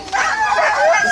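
Sled dogs at the start of a Yukon Quest 300 race let out a quick burst of high yips and barks, close and loud, over the noise of the crowd.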